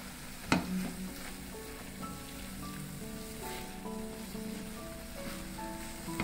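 Chicken in sweet soy sauce sizzles and hisses steadily in a pan while being stirred, with a sharp clatter near the start and faint scraping throughout; background music plays along.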